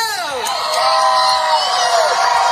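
A street crowd of fans at the 2025 NBA championship parade for the Oklahoma City Thunder in Oklahoma keeps up loud, continuous cheering, screaming and whooping, with shrill voices rising above a dense roar.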